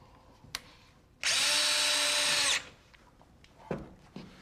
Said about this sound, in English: you just mount it onto the studs with... just some sheetrock screws